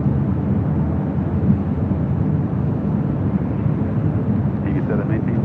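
A China Airlines cargo Boeing 777 from Taipei at LAX gives a steady broadband roar, loud and unbroken, with wind noise on the microphone and no voices.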